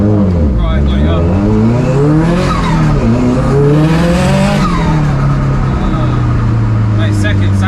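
A 556hp Subaru Impreza STI rally car accelerates hard, its engine roaring loudly and sweeping up through the revs, then easing off and settling near the end, close-up and from inside the car, with no talk.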